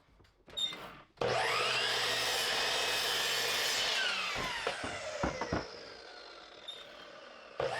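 A saw cuts wood twice against a stop block, trimming the feet for a wooden bench. A loud, sustained cutting drone follows a brief start, then a few sharp knocks as the pieces come free.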